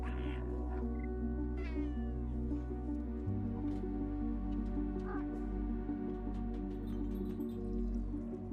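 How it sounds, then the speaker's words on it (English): A cat meows several times in a spooky, stealthy video game trailer, the calls sitting over a steady low musical drone with faint drips. "Is that like a cat? That's a cat, right?"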